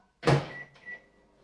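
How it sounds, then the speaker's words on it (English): A microwave oven melting coconut oil: a sharp clunk of the door or start button, then a faint steady hum with a brief electronic tone, close by and with no talking. "I'm just going to very gently melt that in the microwave"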